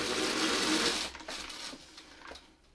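A sewing machine stitches a quilt Y seam, running in a fast, loud, continuous whir for about a second. It then stops and is followed by a few faint clicks and handling sounds.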